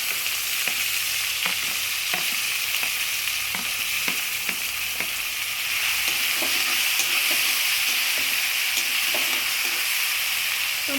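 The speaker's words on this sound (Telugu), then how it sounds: "అవి వేగాక మనం ముందుగా కట్ చేసి పెట్టుకున్న టొమాటోస్ని వేసుకోవాలి" Chopped tomatoes fry in a pan with garlic ginger paste, giving a constant loud sizzle with scattered clinks and scrapes of a spoon stirring against the pan.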